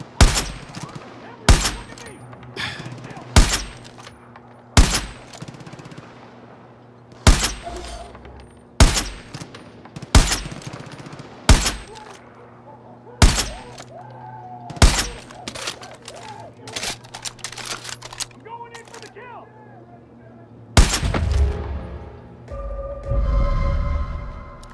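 Sniper rifle shots ring out in Far Cry New Dawn, a dozen or so loud, sharp cracks spaced a second or two apart, then a denser burst of gunfire near the end.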